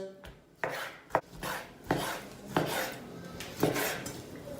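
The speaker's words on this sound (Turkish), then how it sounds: "Tavuklarımızı kuşbaşı doğrayacağız." Sharp knife chops on a cutting board as chicken is cut into cubes, five or six distinct hits at an uneven pace, with faint clatter of kitchenware between strokes.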